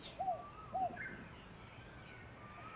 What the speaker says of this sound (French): Eh, les oiseaux!